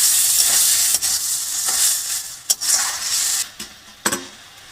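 Chopped ginger and onion frying in a pan for a mutton and kabuli chickpea curry: a bright, steady sizzling hiss broken by a few sharp stirring scrapes and knocks, up close with no talk.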